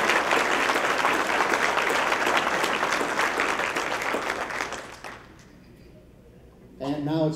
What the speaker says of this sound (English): One more round of applause for all of our red apple winners